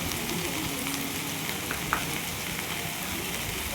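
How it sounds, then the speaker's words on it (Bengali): Spices with turmeric, sugar and salt fry in a pan for a vegetarian chickpea ghugni, giving a steady close sizzle with a faint scrape of stirring partway through. "দেওয়ার পর ভালোভাবে কষিয়ে নেবো"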